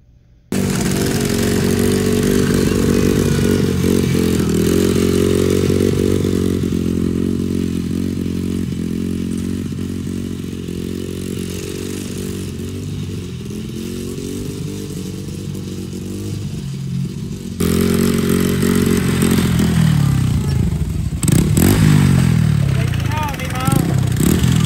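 A Yamaha PW50 mini dirt bike loops around a track, its small engine buzzing loud and close in a continuous drone with pitch rising and falling, and a voice talks partway through.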